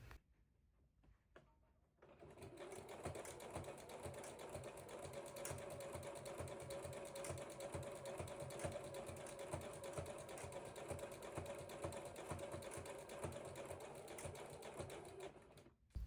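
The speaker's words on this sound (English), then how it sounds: "how I make my rugs" A sewing machine stitching a fabric rope rug: after a couple of faint taps, the motor whirs up and runs steadily with a fast, even needle chatter, close and continuous until it stops near the end.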